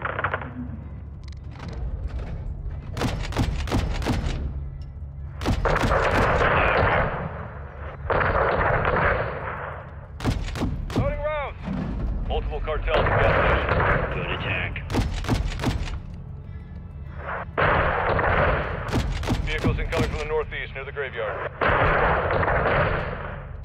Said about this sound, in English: small arms fire from the gas station.